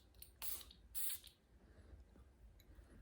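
Two quick hissing perfume spray bursts, close and crisp, separated by a brief pause, with faint background noise between them.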